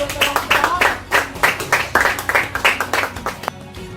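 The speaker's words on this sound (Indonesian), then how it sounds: "Kita berikan aplaus sekali lagi untuk kedua kelompok." A classroom of students applauds both groups at the close of a supervised lesson, with a run of clustered hand claps that rises and falls steadily. The clapping stops abruptly near the end.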